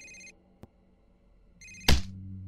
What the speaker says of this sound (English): Incoming call, incoming call, incoming call.